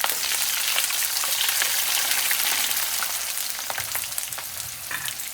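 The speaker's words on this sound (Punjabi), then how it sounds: "ਚੰਗੀ ਤਰ੍ਹਾਂ ਨੂੰ ਆਪਾਂ ਫਰਾਈ ਕਰ ਲੈਣਾ" Fresh turmeric and chillies fry in oil for a pickle, producing a bright, dense crackling sizzle that starts strong and gradually softens, close up with occasional pops.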